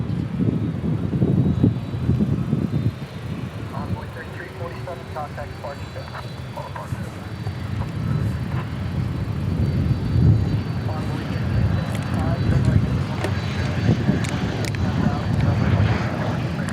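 An American Airlines jet airliner in a special retro livery passes at DFW Airport, a loud sustained engine roar rumbling steadily throughout with a spotter talking over it.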